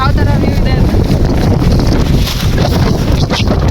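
Strong monsoon wind blowing across a hilltop in the rain, a loud, continuous roar that buffets the microphone throughout, with a brief voice-like sound near the start.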